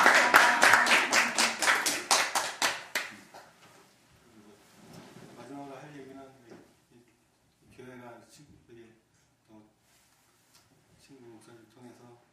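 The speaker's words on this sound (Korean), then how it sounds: "박수를 한번 보내줬으면 좋겠어요." A congregation at a Korean Thanksgiving Sunday worship service bursts into brief, loud, dense applause for a friend pastor. The clapping fades after about three seconds and a voice then speaks alone.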